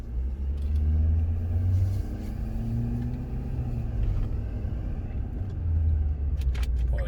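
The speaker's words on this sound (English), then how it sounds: "Cut the air off, and we're just gonna listen to the motor together." A Ford F350 pickup engine idles steadily up close with the air off, a continuous low rumble that swells slightly now and then, with no talking over it.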